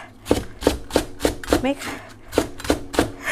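Knife chopping onions, several sharp evenly spaced cuts through the bulb against a board, close and moderately loud, with someone speaking and a brief vocal sound between cuts.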